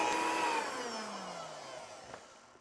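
Vacuum cleaner cleaning up spilled flour, a steady mid-level whine that slowly fades as the motor winds down.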